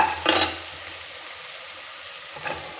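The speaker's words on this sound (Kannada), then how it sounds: "ಅದೆಲ್ಲ ಚೆನ್ನಾಗಿ ಫ್ರೈ ಆಯ್ತದಲ್ವಾ, ಬೆಳ್ಳುಳ್ಳಿ ಎಣ್ಣೆಲಿ" Garlic frying in oil in a pan gives a short loud burst of sizzle and stirring at the start, then fades to a faint steady hiss, with a second brief flare near the end.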